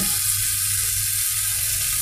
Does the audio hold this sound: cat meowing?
no